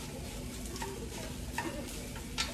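Breakfast frying in an aging non-stick pan, a steady close sizzle with a few soft clicks and taps of a utensil stirring, no voices.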